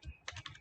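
Quick, close keystrokes on a computer keyboard while writing a line of Java code, several crisp taps in an uneven run with no voices.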